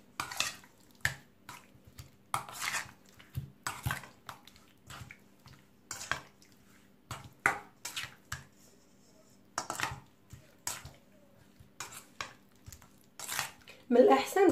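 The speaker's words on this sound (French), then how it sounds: "وغنحركوا اللحمه ديالنا مع الطريه" Meat being stirred with spices in a tajine pot: repeated close scrapes and knocks of a utensil against the pot in irregular bursts, with quieter gaps between.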